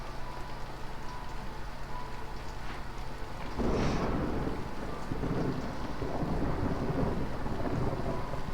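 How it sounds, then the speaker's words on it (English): Thunder rolls through a video game thunderstorm in a colony-building game, a low rumbling swell over steady rain and wind that builds midway and lingers, with no talk. "The storm is incoming."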